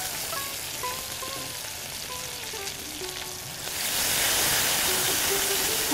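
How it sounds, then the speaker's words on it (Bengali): A pan of lentils and tomato fries with a steady sizzle, then water poured in raises a louder, broader hiss near the end, with faint tonal clinks early on, close and continuous. "একটু জল দিতে হবে"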